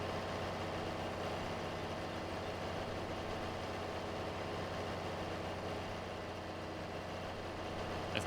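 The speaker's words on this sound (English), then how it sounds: "So this should be a nice, good mowing tractor here then" John Deere 4020 tractor in Farming Simulator 22 idling with a low, steady diesel rumble, faint and even throughout with no talk over it.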